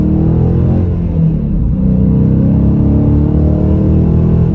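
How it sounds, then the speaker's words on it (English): A 2021 Dodge Challenger Scat Pack Plus with a 6-speed manual accelerates hard in second gear, its engine a loud, close, continuous deep rumble and roar that holds steady throughout, with no talking. "second gear, let's give it a little bit of gas"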